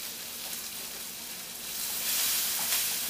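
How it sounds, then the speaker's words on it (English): Broccoli sizzling and frying in a hot pan, a steady broadband hiss that swells louder in the second half, close and alone with no talk. "I'm going to throw the broccoli in."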